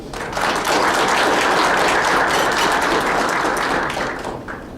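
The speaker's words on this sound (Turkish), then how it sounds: "Onları lütfen bir alkışlamanızı rica ediyorum." Sustained audience applause at a chamber of commerce and industry meeting in Gemlik, a dense steady wash of many hands clapping that holds for several seconds and then tapers slightly at the end.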